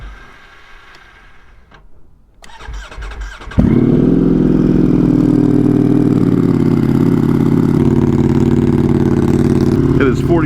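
A 200+ hp motorcycle engine cold-starts on a mild winter day, with quiet fiddling sounds and then a sudden loud catch settling into a steady, rough, close idle that runs to the end.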